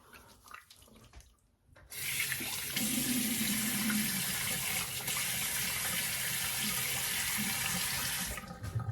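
A bathroom tap runs for rinsing off a face cleanser: a steady, close rush of water from the faucet for several seconds, starting abruptly after some quiet handling noises and cutting off near the end.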